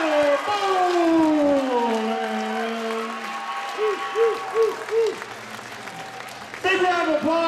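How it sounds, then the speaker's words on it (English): Applause and crowd noise at a fight night event fill the background while an announcer's voice booms over the top, loud and continuous. "Big round of applause for the action in that last fight."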